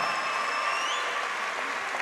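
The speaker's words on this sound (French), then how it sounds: "Je vais vous demander, avant d'avoir le résultat de ce combat, d'applaudir une nouvelle fois très fort" A crowd at a French savate boxing final applauds the red-corner fighter before the result, a steady wash of clapping that carries on evenly and tapers slightly near the end.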